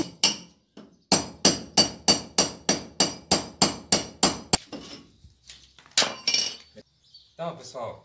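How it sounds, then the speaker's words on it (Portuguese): A hammer drives a cold chisel into brick while a small sink tank is being set, giving about a dozen loud, evenly spaced metallic strikes close by, then a few scattered knocks and crumbling pieces. "tô usando um martelo, uma talhadeira simples, tá vendo?"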